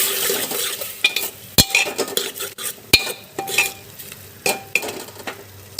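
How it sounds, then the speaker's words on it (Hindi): Pav bhaji masala with red chili stirred in a hot pan, a spoon scraping and clinking against the metal in irregular strokes over a soft sizzle, close up with no talk. "अब हम इसे अच्छे से मिक्स कर देंगे।"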